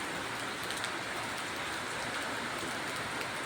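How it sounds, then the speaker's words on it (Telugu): Rain falls steadily in front of a temple with metal roof sheets, a constant dense hiss with faint patter of drops, no voices. "వర్షం పడుతూనే ఉంది."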